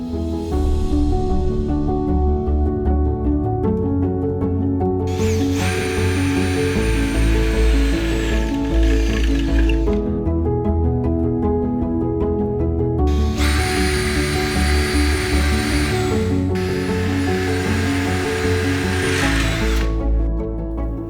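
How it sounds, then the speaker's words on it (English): Power drill pre-drilling aluminium ring beams for a roof lantern, two sustained high whirring bursts of about five and seven seconds each, close and loud over steady background hum. "Continue to mark and pre-drill all ring beams in a similar manner."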